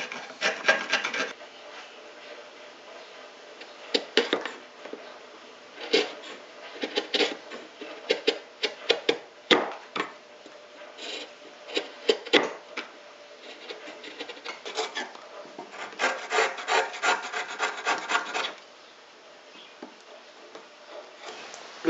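Wood chisels paring wood to finish a joint for a closet partition, giving a long run of irregular dry rasping scrapes and short strokes, close and fairly loud, with brief pauses between bursts.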